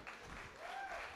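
An audience at an Odia film personalities' show gives a soft, steady ripple of clapping, faint and distant throughout the brief moment.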